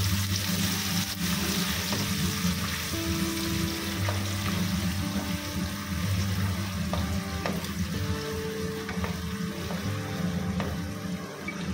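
Chopped onion fries in oil for cabbage Manchurian, a steady soft sizzle with scraping stirs and occasional clinks of a utensil against the pan, close and moderately quiet.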